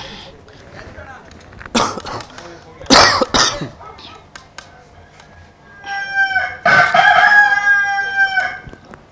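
A rooster crows at dawn during a Kannada village stage play, its drawn-out call loud and near in the final seconds, preceded by several short coughing or throat-clearing bursts.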